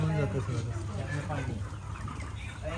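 Chickens cluck and murmur in a dense, steady crowd inside a poultry shed, close by, filling the space with continuous low chatter and occasional squawks.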